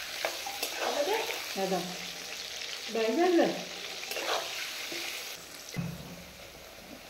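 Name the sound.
frying potatoes in oil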